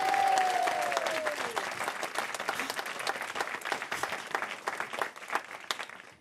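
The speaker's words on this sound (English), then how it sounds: "Please applause." Theatre audience applauding during an award presentation in an amateur stage comedy, a full burst of clapping that starts strong and gradually thins into scattered claps, with a brief sung or held voice at the start.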